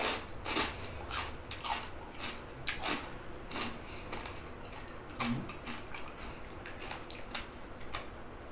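Crisp, repeated crunching bites of Thai pork cracklings and crackling pork sheets eaten close to the mic with chili dip, irregular sharp crunches running steadily and alone with no talk.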